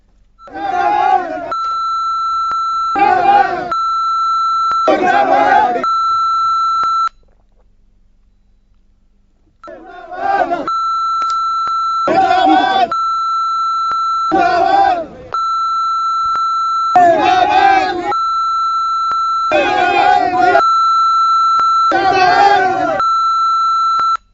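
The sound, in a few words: censorship beep over news footage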